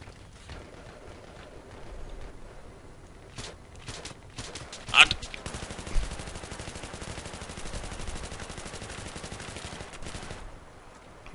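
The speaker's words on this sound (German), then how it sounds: "Muss man hier mit Dauerfeuer geben" Sustained automatic gunfire rattles in the video game Battlefield 3, coming in rapid continuous bursts with a few louder blasts, under quiet background game sounds.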